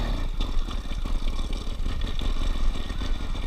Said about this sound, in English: such as the struggling engine.